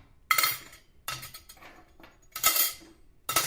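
Silverware and dishes clinking in a kitchen as an audio drama effect: four separate bursts of bright metallic and ceramic clatter, close and fairly loud, with short quiet gaps between them.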